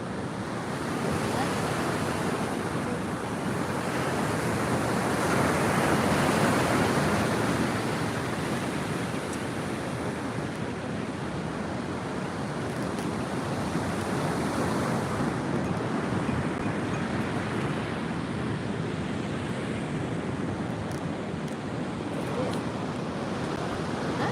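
Ocean waves at a beach, a continuous broad roar of surf with gentle swells in loudness and some wind buffeting, steady and fairly loud throughout with no clear talking.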